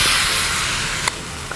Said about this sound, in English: plenty of hot pan available for that meat to really start to sizzle